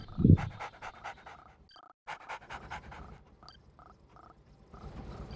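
An attack dog in the strategy game Red Alert 2 pants in quick rhythmic bursts, mixed with short game interface beeps and tones, fairly close and clear.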